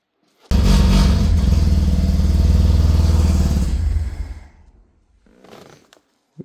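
A 1985 Mazda RX-7 GSL-SE rotary engine, started after sitting 24 years, roars loudly at close range for about four seconds with a rough, steady drone, then sputters down to a faint, uneven idle before a brief revival.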